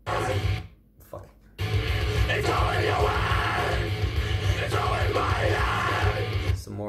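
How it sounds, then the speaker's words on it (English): Loud, raw yelling and screaming close up, starting with a short burst, then a brief pause before a long, sustained shout that carries on to the end. "Some more very loud screams."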